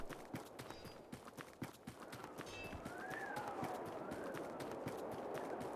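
A horse's hooves clip-clop in a tavern management video game. The steps form a steady, moderately close rhythm of sharp knocks over a soft ambient background, and a faint whinny or tone rises partway through.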